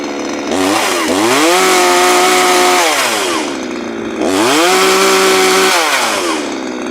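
A Chinese DOKA petrol chainsaw runs close and loud, its engine revving up twice into a sustained high whine and dropping back to idle between.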